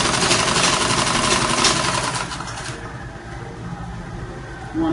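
A sewing machine runs steadily as it stitches an A-shape skirt, a loud continuous mechanical whir for about three seconds before it stops and leaves a quieter room hum.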